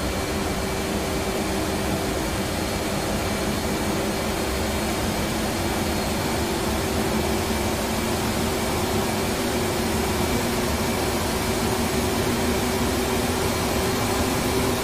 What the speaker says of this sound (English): Can you hear the wind going?